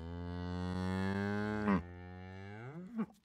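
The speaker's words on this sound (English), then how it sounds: "like a cow, we'll be hearing it in here" A cow moo synthesized with Soundly Voice Designer AI software: one long, clean, close moo with a bending pitch at the end, then a short second grunt.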